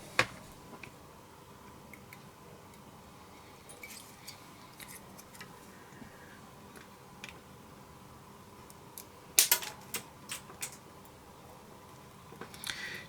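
Cutters snip component lugs off a circuit board, making sharp, sparse clicks and ticks at an irregular pace over quiet background hiss, with a quick cluster of snips near the end.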